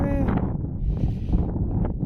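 Steady, blustery cold wind rushes and rumbles across an open cumin field, buffeting the microphone throughout, with a brief voice near the start.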